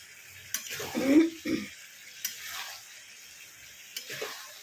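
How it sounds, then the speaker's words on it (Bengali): Spice paste with ginger and garlic being fried over high heat with black chickpeas and potatoes, a steady soft sizzle broken by a few louder scraping stirs near the start and end, with no talking. "মশলাটাকে এই ছোলার আলুর সঙ্গে কষিয়ে দিচ্ছি।"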